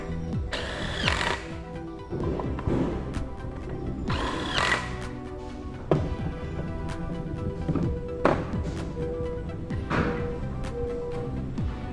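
A brake disc is bolted to a bearing carrier for a Nissan Silvia/Skyline rear twin caliper kit, with close ratchet clicking, metallic taps and a couple of louder, brief tool bursts.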